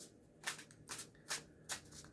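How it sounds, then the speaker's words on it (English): A tarot card deck is shuffled by hand in four quick, crisp riffling bursts about half a second apart, quiet and close, with no one talking. "all we do is we shuffle the deck until we feel like we need to stop"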